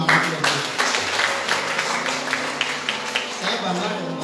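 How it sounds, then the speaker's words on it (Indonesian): Congregation applause at a church worship service, a steady spatter of hand claps running throughout with a voice speaking over it. "Dalam tepuk tangan saya mau nyemangati Bapak"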